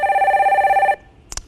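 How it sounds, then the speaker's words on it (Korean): A telephone rings with an incoming call during a live call-in stock-advice broadcast, a steady loud electronic trill that runs for about a second and then cuts off, followed by a brief faint click. "다음 전화를 받아봅니다."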